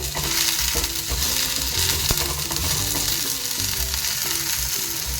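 Potatoes fry in a pan for a jackfruit seed gravy, giving a steady, loud sizzle with bursts of stirring and scraping throughout and no voices.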